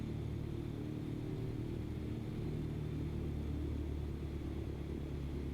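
A Cessna 152 piston engine runs in Microsoft Flight Simulator, a low, steady, muffled droning rumble that holds constant and fairly faint with no other sounds.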